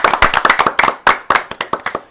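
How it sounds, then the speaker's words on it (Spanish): Clapping at a health talk event, a run of loud, close, rhythmic hand claps from a small group, fairly evenly spaced, with no talking over it. "Vamos a darle un fuerte aplauso."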